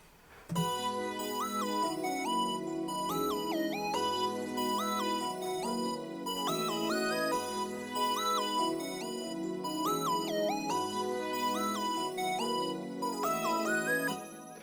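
A looping pluggnb beat with a bright, swirling phaser lead melody over soft chords and bass, repeating steadily with no voices.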